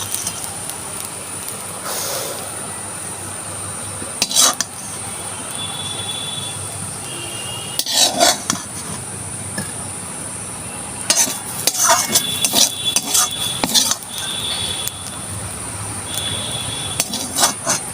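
A bon bhetkul leaf dish is stirred in a pan as it cooks down and dries out: scattered bursts of scraping and clinking over a soft, steady background hiss, with no talking.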